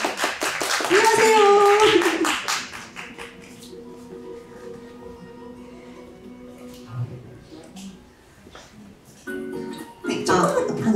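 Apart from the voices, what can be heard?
applause welcoming a guest speaker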